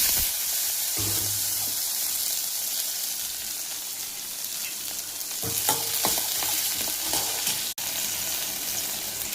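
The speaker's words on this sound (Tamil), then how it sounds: "இப்போ கடுகு போடுறோம், கொஞ்சம் ஜீரகம் போடுறோம். அடுத்தது வெங்காயம்" Mustard seeds, cumin and onion fry in hot oil with a steady, close sizzle and scattered crackles, plus spatula scrapes and one sharp click near the end.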